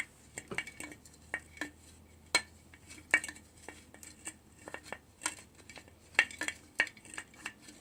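Object used as a stirrer clinks and scrapes inside a jar of oil packed with ingredients, a run of sharp, irregular taps and clatters at close range with brief pauses, fairly quiet overall and without voices.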